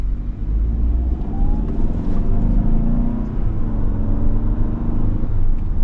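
A 2024 Hyundai Santa Fe Calligraphy AWD, a three-row midsize SUV, pulls away from a stop on a road, its engine rumbling steadily and rising under acceleration with continuous tire and road noise.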